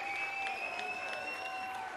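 An audience at a television variety show applauds steadily for the whole stretch, with sustained musical tones ringing clearly through the clapping.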